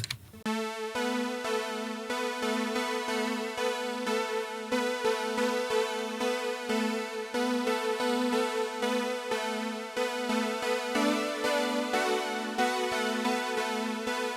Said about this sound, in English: the last thing that I added was another synth